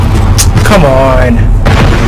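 A grenade blast booms loud and close in the Call of Duty Modern Warfare campaign, a heavy low rumble that swells and rolls on under a brief voice.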